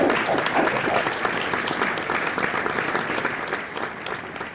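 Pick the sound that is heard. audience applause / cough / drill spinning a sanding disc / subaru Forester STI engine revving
audience applause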